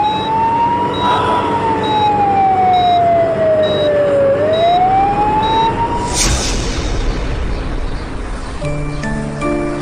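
An emergency vehicle siren wails loud and close, its tone sweeping slowly down and back up over steady road rumble, with a sharp burst near the end.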